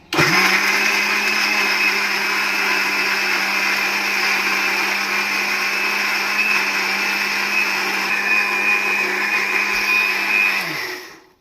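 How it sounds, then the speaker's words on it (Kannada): An electric mixer grinder runs loud and steady for about ten seconds, grinding batter with added water, then winds down at the end. "ಚೆನ್ನಾಗಿ ರುಬ್ಬೋಣ."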